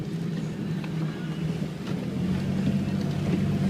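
A boat engine bogs down as the throttle is advanced, a low rumbling drone heard close up with wind buffeting the microphone and no talking.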